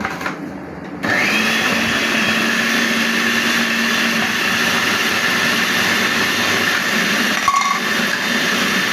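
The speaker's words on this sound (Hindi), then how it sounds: "सबसे पहले प्याज और ब्रेड डालकर इसको ब्लेंड किया है" A kitchen blender whirs steadily as it chops onion and bread. It starts abruptly after a quieter moment and runs loud and continuous, with a brief change in pitch near the end.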